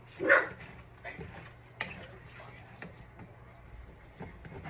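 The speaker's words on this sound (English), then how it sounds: "And that was my dog. That is Hawkins, making his presence known." Hawkins the dog gives one loud, close bark near the start, then only faint kitchen clatter and a low background hum follow while meat cooks.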